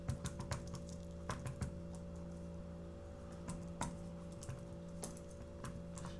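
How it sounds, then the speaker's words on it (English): Typing on a computer keyboard during a physical science experiment, sparse irregular key clicks close by, with a steady low electrical hum underneath. "I can't type."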